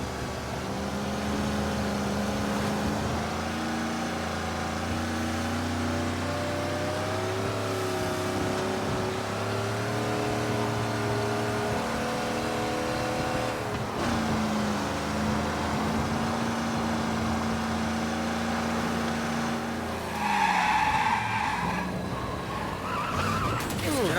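A car in the video game Mafia Definitive Edition drives with a steady engine drone, its tires skidding and squealing through turns, with a sharper screech near the end.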